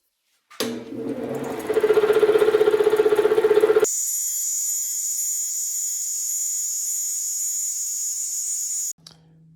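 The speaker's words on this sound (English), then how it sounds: "now I'm going to use this vintage scroll saw to cut out the rest of the profile of the gear teeth." A vintage scroll saw cutting the tooth profile of a clock gear: a rapid reciprocating buzz and rasp for a few seconds, then a steady high whine from the running machine before it stops abruptly.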